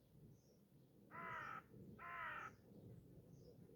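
Two loud crow caws ring out in quick succession near an outdoor garden camping setup, each a harsh drawn-out call against quiet background air.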